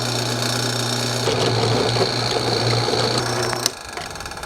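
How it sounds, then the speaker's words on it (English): A drill press runs steadily with a droning motor hum while drilling holes for custom air ride parts on a Peterbilt truck, then spins down near the end. "Now we'll throw it in the drill press."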